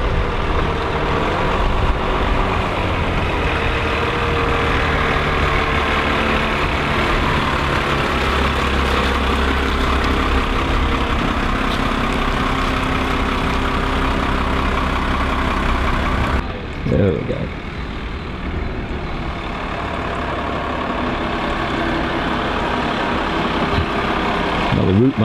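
A bus formerly used on airport routes idles at the Brooklands Cobham gathering, its loud, steady heavy-engine rumble continuing throughout with a brief dip partway through.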